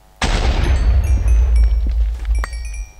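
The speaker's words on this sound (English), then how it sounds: "And you get an explosion." In Minecraft, a piston trip mine goes off with a sudden loud blast that booms and rumbles, fading over about three seconds while small crackling debris sounds and faint clicks follow.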